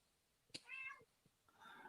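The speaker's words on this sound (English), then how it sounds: "can you stop meowing?" A cat meows faintly once, a short distinct call, followed by a softer second meow, heard alone against a quiet background.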